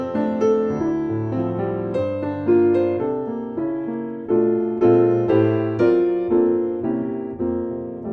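Jazz piano arrangement of the carol Angels We Have Heard On High, played solo with rich chords voiced in different positions over a steady bass, a series of sustained struck chords at a moderate, even pace.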